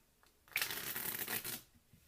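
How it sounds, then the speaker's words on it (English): A deck of cards riffles in one quick, crisp shuffle lasting about a second, close up and alone in a quiet room. "give it some cuts and shuffle it"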